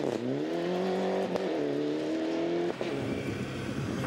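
A Mitsubishi Evo 9 rally car on a forest stage revs hard, its engine note rising through the gears with a short lift between shifts, loud and close throughout.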